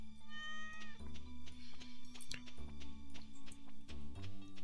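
A cat in Stardew Valley gives a short meow at the start, over a steady, pulsing farm-game soundtrack with light ticking effects.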